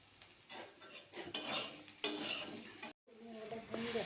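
Cumin powder and dried curry leaves fry in a pan for a peanut curry with soybeans, sizzling steadily while a utensil stirs and scrapes in uneven strokes, broken by a brief silent gap before the frying resumes.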